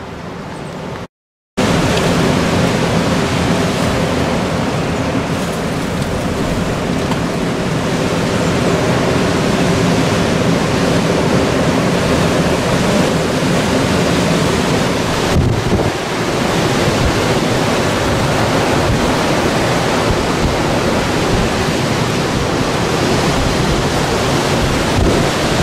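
Strong gusty wind from storm Eunice roars through 's Heerenberg, a loud continuous rushing buffet on the microphone with a brief dropout near the start and sustained blustering throughout.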